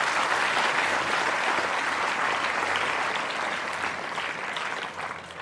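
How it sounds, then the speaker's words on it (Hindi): An audience at a motivational seminar applauds the doctor with loud, dense clapping that holds steady, then thins out toward the end. "जोरदार तालियां डॉक्टर साहब के लिए।"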